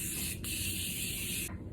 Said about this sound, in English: the setting spray from Morphe.